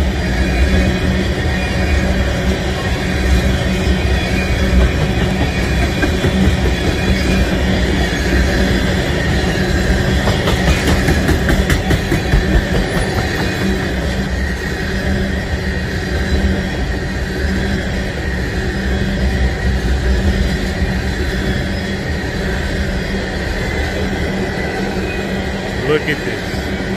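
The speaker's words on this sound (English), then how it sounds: "A combo train." A long freight train mixing stack cars and other cars rolls past close by with a loud steady rumble, rhythmic wheel clatter and occasional squeal, and voices can be heard under the noise.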